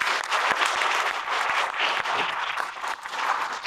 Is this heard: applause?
yes